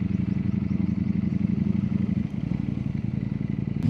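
A Ducati Panigale V4S motorcycle rumbles loudly and steadily at low speed while rolling over a speed breaker, with a brief dip and some clatter midway.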